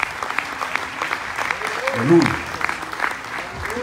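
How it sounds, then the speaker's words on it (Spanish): Church congregation applauding throughout, with steady hand clapping underneath a preacher's spoken and sung exclamations and a brief louder vocal swell in the middle. "Utilice las dos manos, hermano José, para aplaudir."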